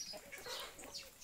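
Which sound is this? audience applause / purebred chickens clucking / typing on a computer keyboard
purebred chickens clucking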